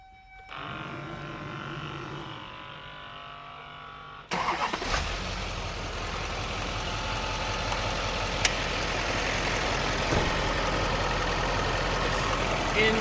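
A 6.6 Duramax diesel in a 2006 GMC Topkick 4500 ambulance cranks and catches, then settles into a steady, loud, low idle that holds evenly to the end, with no talking.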